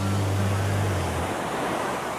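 Ocean surf rolling in at a beach in Sydney, a loud, continuous broadband wash of breaking waves with some wind rumble, no talk over it.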